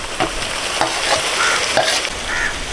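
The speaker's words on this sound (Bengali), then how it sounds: "চার চামচ আদা রসুন বাটা দিয়ে দিচ্ছি।" Ginger garlic paste hits hot oil in a pan for a spicy mutton curry, giving a loud, close, hissing sizzle with several sharp spatula scrapes, and no talk.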